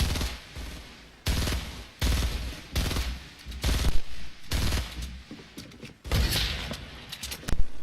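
Video game gunfire sounds as repeated bursts of automatic shots, about seven sharp volleys spaced roughly a second apart, loud and close with short gaps between them.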